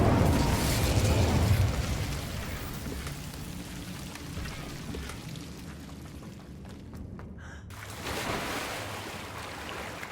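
Incendio fire spell cast in Hogwarts Legacy, a loud whooshing burst of flame that roars at the start, fades into a crackling rumble, then swells again near the end.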